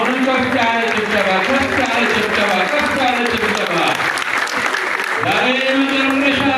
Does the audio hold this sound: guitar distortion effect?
no